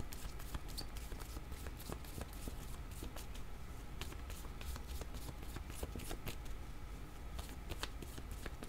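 Playing cards being shuffled continuously during a board game session, a dense, even riffle of soft clicks and slaps lasting the whole stretch, close and fairly quiet.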